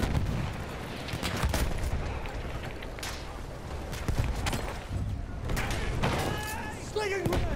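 Grenade blast and gunfire in Battlefield 1 combat: several sharp, loud bangs scattered through a busy battle, with a player's voice over the noise.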